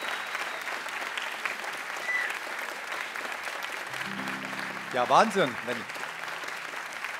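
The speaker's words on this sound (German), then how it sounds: "Vielen Dank für diesen Applaus." Audience applause at a German music-cabaret evening, steady clapping from a seated crowd filling the room, with someone talking briefly over it.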